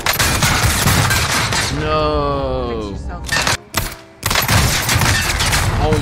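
Gunfire from a Magnum revolver in the video game Warzone, heard as loud, dense bursts of shots that surround a stretch of speech and a brief drop into near silence.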